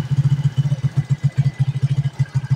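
A motorcycle engine with a clogged carburetor runs rough and misfires, its low, uneven firing pulses stuttering close by in an irregular rhythm with no talk over it.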